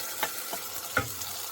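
Crushed ridge gourd goes into a hot pan and sizzles softly, with three short louder bursts of frying and stirring over a quiet, steady hiss, and no talking.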